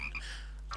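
A cartoon frog in My Little Pony gives a short croak over a low, steady hum, moderately loud and brief, with no talking.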